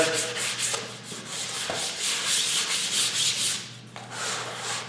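Hand sanding with 220-grit sandpaper along a workpiece edge produces rhythmic back-and-forth rasping strokes, close and steady, with no voices.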